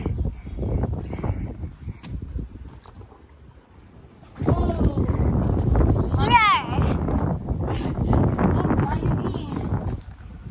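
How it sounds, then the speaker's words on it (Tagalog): Strong wind buffets the microphone outdoors in Peru, heavy low rumbling gusts that ease briefly then return louder, with people talking and a few faint bird-like chirps. "So windy, guys."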